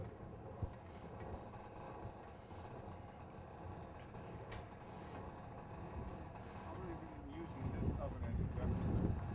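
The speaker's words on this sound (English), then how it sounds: "take the oven and crank it till it's fully upright" A homemade villager sun oven, built in 1998, being cranked upright by hand. Its ratchet mechanism gives faint, irregular clicking and creaking over a rumbly outdoor background, with the sound getting louder near the end.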